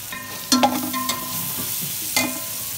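Boiled chicken stirred into a pot and fried for pulao, giving a steady soft sizzle with a couple of sharper clattering stirs of a spoon against the pot.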